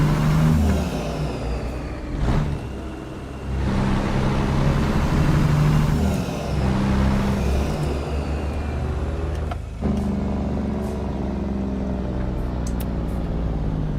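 Simulated Caterpillar C15 truck engine in American Truck Simulator, a steady low-rev diesel drone that rises and dips with throttle across the whole stretch, loud and close, with no talking.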